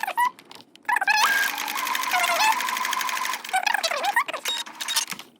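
Sewing machine stitching straight along a marked line on foundation paper-pieced quilt fabric, a fast, close mechanical whirring hum with brief stops and restarts and a rising and falling motor pitch.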